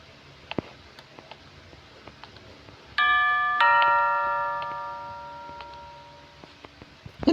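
A doorbell rings inside a Roblox video game, a clear two-tone chime that rings out and slowly fades, with faint clicks and taps before and after it.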